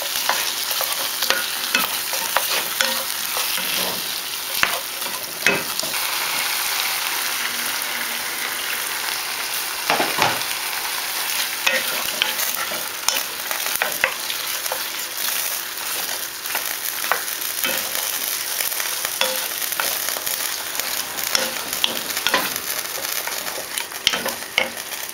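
Sausages and fried onion stirred in a sizzling pan, a continuous crackling fry with repeated scraping strokes of the spoon, steady and close throughout.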